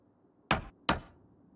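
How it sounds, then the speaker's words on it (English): Two heavy, sharp impacts of a sledgehammer dismantling a wall in Project Zomboid, struck about half a second apart, each a loud dry thud that fades quickly into quiet. "Grab sledgehammer. Let's throw that in our bag in case we need it. And dismantle."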